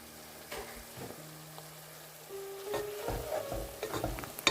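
Onions fry in a pan for a spicy okra and potato curry, with a soft continuous sizzle, some stirring scrapes and a faint tone in the background.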